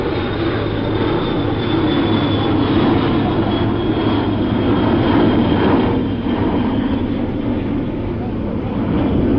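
Aircraft passing overhead at an airport during a solemn motorcade departure, a steady broad engine roar with a faint high whine, continuous and fairly loud throughout, with crowd murmur and voices mixed underneath.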